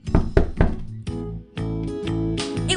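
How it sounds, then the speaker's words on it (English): Three sharp, hollow knocks strike a door in a Cinderella puppet-theater game, evenly spaced and close, followed by a sustained musical passage. "she heard the knock on the door"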